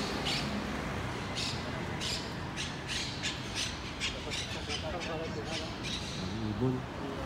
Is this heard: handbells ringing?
no